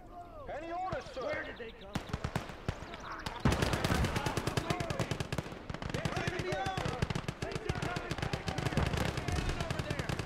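Gates of Hell Ostfront battle: a machine gun rattles out long rapid bursts, loud and close, dense with repeated shots, while voices talk over the gunfire.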